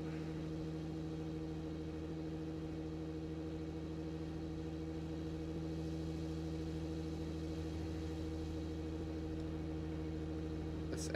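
Car engine in the BeamNG driving game, a vehicle fitted with NOS, running at a steady low idle with a constant deep hum that stays level and fairly faint throughout, with no revs or talk.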